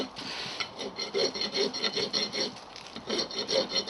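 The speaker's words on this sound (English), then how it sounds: "once I've got the edge satisfactorily filed round like it is now" A metal file rasps back and forth along the edge of a pewter casting, rhythmic scraping strokes roughly two per second, close and fairly loud with no talking.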